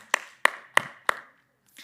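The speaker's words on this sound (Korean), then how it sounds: "우리 박수 한번" A youth worship audience gives a short burst of claps, four sharp hand claps spaced evenly, then quiet with a faint trailing sound.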